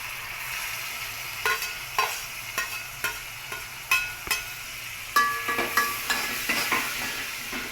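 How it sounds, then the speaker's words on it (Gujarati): Pav bhaji vegetable puree sautéing in oil in a pan, with a steady close sizzle under irregular sharp clacks and scrapes of a spoon stirring, about a dozen strokes. "તેલ છૂટું પડે ને ત્યાં સુધી જ આપણે આને સાતડી લઈશું."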